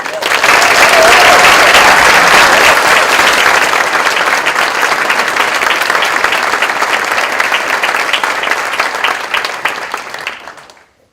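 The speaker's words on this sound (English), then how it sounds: "give yourselves a big round of applause" Thunderous applause from a large audience at the 2019 LIT Thurles graduation conferring ceremony, a dense, steady roar of clapping that holds for about ten seconds before fading out at the end.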